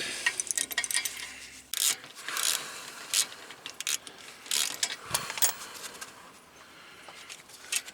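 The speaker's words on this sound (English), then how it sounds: "you got to hang on to this with a wrench to take that bolt out." A wrench works a rusted brake caliper bolt loose on a Smart car, giving close, uneven ratcheting clicks and metallic grinding bursts with short pauses between them.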